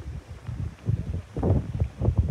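Gusty wind blows outdoors during kite flying in the rainy season, a rough buffeting rumble against the microphone that swells and fades in uneven surges, with no voices.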